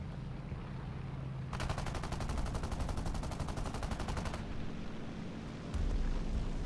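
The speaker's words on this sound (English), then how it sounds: "I machine gun it, nothing." A burst of rapid machine gun fire in a combat video game, fast and steady for about three seconds, loud over a low engine-like drone, followed by a short second sound near the end.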